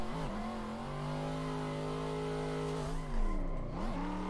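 A Mazda Miata in a racing sim game revs hard, its engine tone holding high and steady, then dipping and climbing again with a brief burst of tire noise near the end.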